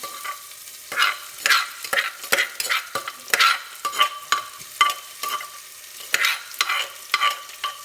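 Garlic and fresh chili stirred into a hot cooking pot for a bamboo shoot dish, giving repeated scraping and sizzling strokes in a steady rhythm, close and fairly loud, with no talk.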